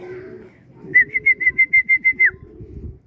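A racing pigeon arriving home during a race gives a bright series of about nine short, evenly spaced whistle-like calls, loud and close, over a low background rumble.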